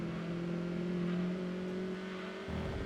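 A race car engine in Gran Turismo 2 simulation mode hums at a steady, smooth drone with a low purring tone and a slight shift near the end, with no talking.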